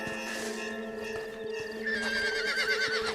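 A horse in the video game Red Dead Redemption gives a long, loud whinny with a wavering pitch, over faint hoof clops and a steady background drone.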